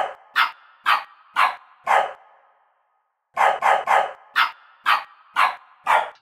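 A dog barks in a steady series of sharp, evenly spaced barks, pitch-shifted electronically with an FFT frequency shift so each bark rings with a tonal, synthetic quality. A short silent gap splits the series in two.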